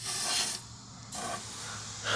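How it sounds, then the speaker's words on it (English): WD-40 sprayed from an aerosol can down into a rusty bicycle seat tube: two close, loud hissing bursts separated by a brief softer pause, with no talking. "use some WD-40 to spray out all the rust"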